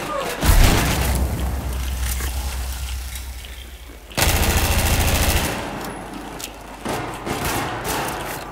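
Battlefield 4 Conquest Large battle on Operation Locker: heavy explosions and bursts of gunfire fill the clip, with a loud boom near the start and another at the midpoint, under dense continuous combat noise.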